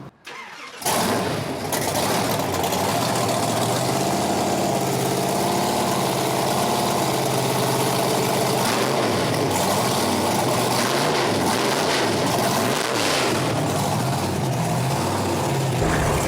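A large Oshkosh military-style truck engine cranks and catches near the start, then settles into a loud, steady idle with a deep rumble and slowly shifting tones for the rest of the stretch, with no talking.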